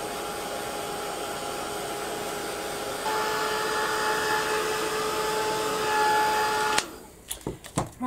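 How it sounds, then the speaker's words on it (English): A heat gun blows steadily for several seconds, a loud constant whooshing drone with a whine that steps up slightly midway, then cuts off, followed by a few handling knocks. "give it a blast with my heat gun now."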